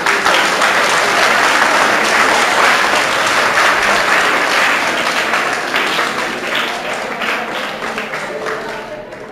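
A crowd claps steadily through a lively speech event at an English language institute in Amroha, the applause broad and continuous, easing slightly toward the end.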